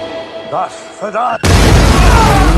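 A sudden loud blast from a small explosive made from a mouse trap cuts in after brief talk, followed by a sustained roaring burst of noise that fills the rest of the clip.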